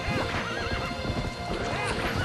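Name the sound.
horse galloping in video game Zelda: Twilight Princess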